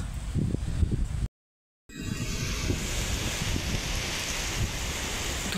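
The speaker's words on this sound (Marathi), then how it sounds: "बघानो वारं कसलं सुटले खतरनाक" A strong wind blows through open farmland during a heavy rainstorm, roaring steadily and buffeting the microphone with a dense rushing noise, broken by a brief gap of silence.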